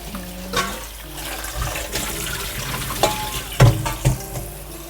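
Green laver seaweed rinsed in a colander under running water, a steady splashing flow with sharper bursts and knocks as it is shaken, near and fairly loud.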